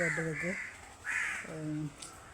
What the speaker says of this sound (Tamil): ரஜ்ஜியை மட்டும் காகம் தூக்கி